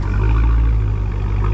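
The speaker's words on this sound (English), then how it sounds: "Put it in park and hit that gas for me." A deep, loud Dodge Hellcat engine rumble with a mid-muffler delete holds steady throughout, with a heavy low-end drone and no talking.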